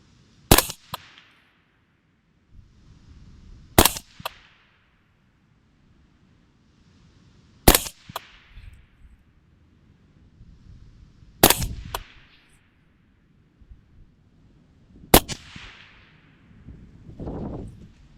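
Five sharp rifle shots from a Griffin 11.5-inch Mark II AR fired at a 200-yard target on an outdoor range, spaced roughly four seconds apart, each a loud close crack with a short echoing tail and quiet shuffling between.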